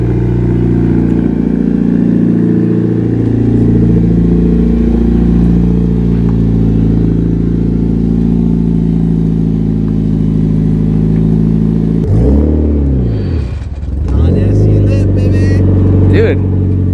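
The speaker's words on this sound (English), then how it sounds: "Now it's time to pull the car out of the driveway" A Mitsubishi Evo 8 pulling out of a residential driveway, its engine running loud and close with a steady low drone, then a short rev and shifting engine pitch near the end.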